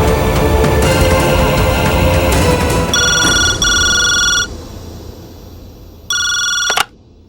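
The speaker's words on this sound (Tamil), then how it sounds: "வீட்டுக்கு ஃபோன் பண்ண வேண்டியதான்." A telephone rings in a home, with loud electronic ring bursts and trilling tones that cut off, a pause, then one more burst before it stops.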